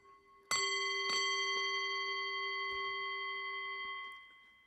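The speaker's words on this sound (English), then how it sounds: "I'm just going to ring the bell." A meditation bell is struck twice in quick succession, its bright metallic tone ringing out clearly and sustaining for several seconds before fading, heard alone in a quiet room.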